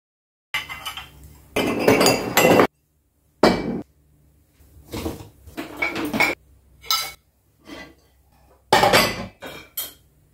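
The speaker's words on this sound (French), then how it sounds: "Je commence comme la majorité de mes matins à vider le lave-vaisselle." Dishes are unloaded from a dishwasher onto a kitchen counter in repeated close bursts of clattering plates, glassware and clinking cutlery separated by short pauses, with no voices.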